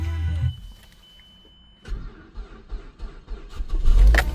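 Car engine cranking and starting after four days idle in snowstorm cold, a brief whir, a pause, then labored turning over that catches and rises into a rough running roar, close by.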